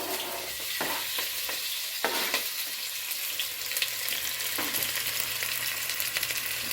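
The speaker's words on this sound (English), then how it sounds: "Stir that around really good." Scallions sizzle and fry in a hot pan while being stirred, a continuous crackling hiss with occasional scraping strokes of the utensil, close and loud with no talking.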